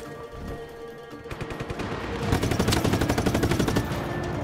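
Rapid automatic gunfire in the video game Just Cause 3, starting sparse then building into dense continuous machine-gun bursts, loud and close, with no voices.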